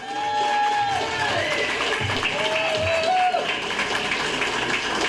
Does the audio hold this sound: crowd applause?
yes